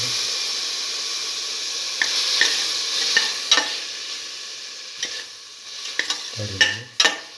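Beef and split chickpea stew gets stirred in a pot, with a steady sizzle and hiss running throughout while a spoon scrapes and knocks against the pot in irregular strokes that grow sharper toward the end.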